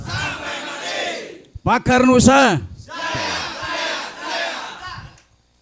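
A crowd of members of a religious organisation shouts a loud rhythmic group yell at an indoor gathering, several chanted bursts in unison with a sharp peak in the middle before fading to silence.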